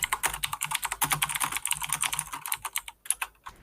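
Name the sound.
computer keyboard typing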